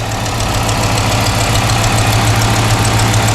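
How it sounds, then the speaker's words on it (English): A Dodge Magnum engine with JBA headers idles steadily up close, with a rapid ticking, puffing rattle riding over the low rumble from an exhaust leak at the header or flange. "one thing I can hear is an exhaust leak."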